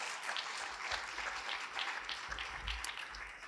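Conference plenary audience applauding, a steady wash of many hands clapping, somewhat distant and moderately quiet, continuing throughout.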